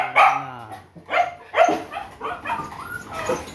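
Several hungry dogs bark and yip in quick, overlapping bursts, fairly close and loud, with some whining mixed in.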